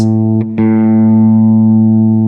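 A single sustained plucked guitar note at A pitch rings out steadily with a bright tone, briefly touched by two light string noises, then decaying slowly.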